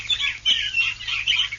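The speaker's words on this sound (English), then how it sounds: "This is the sound of a swamp." Swamp birds call in a series of short, bright chirping and clucking bursts, fairly close and loud, repeating irregularly with no talk.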